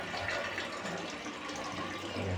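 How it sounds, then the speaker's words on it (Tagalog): Water runs continuously through a faulty concealed WC flush, a steady broad hiss and rush without pause and no voices over it. "tuloy-tuloy ang agos ng tubig."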